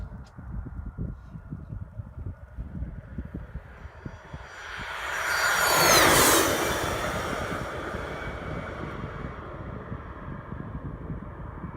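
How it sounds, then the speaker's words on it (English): A low-flying airplane passes close overhead, its roar swelling from a steady background rumble to a loud peak midway, then easing off, with a high engine whine above it. "This plane flying really low."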